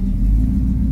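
A 1937 Chevrolet Custom Deluxe idles in drive, its engine putting out a steady, close, loud low rumble with no voices over it.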